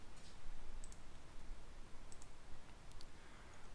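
A computer mouse clicks on points while a ramp slab is drawn in BIM design software: three or four faint, isolated clicks over a steady hiss.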